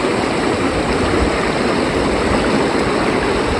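A small waterfall and rocky stream pour in a steady, close rushing wash with no break, heard on a forest walk near a river crossing.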